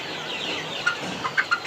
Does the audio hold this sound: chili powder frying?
no